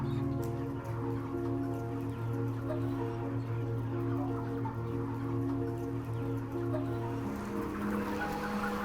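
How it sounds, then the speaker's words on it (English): Poultry birds crowded on a farm, many too weak to walk and sitting down, make a steady, dense layer of clucking and murmuring with strong sustained tones, close and continuous throughout. "Look, that bird can't even walk."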